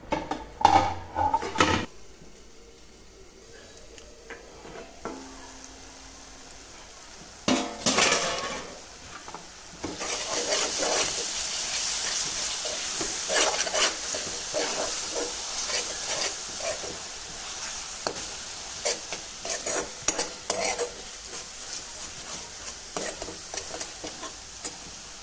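Tomato chutney cooks in a pan, with scrapes and knocks of stirring at first, then a lull before a steady close sizzle and bubbling, accented by clinks of the utensil against the pan.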